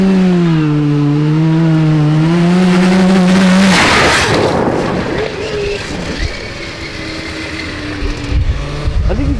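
Loud two-stroke 440cc budget cross kart engine screaming through a top speed run, its pitch climbing steadily before a burst of roaring, rushing noise, then revving on and off close up.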